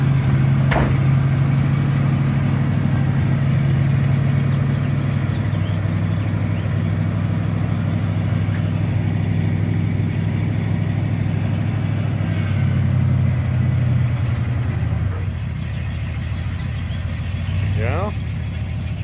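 A car engine idles steadily while warming up, a car with a suspected dirty choke, running close and loud throughout with a slight drop near the end.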